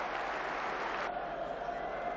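Boxing crowd in Sheffield on its feet, cheering and applauding after the fight, a steady dense roar of voices and clapping that carries on for the whole stretch without a break.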